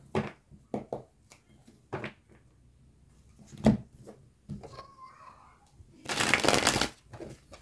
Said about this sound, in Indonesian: sekarang aku coba tarik energinya dengan kartu tarot